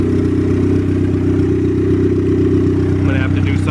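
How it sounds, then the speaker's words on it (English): A turbocharged Honda Civic engine idles with a low, steady rumble and even pulsing, close by, with a faint rattle near the end. "It's actually purring nice and smooth."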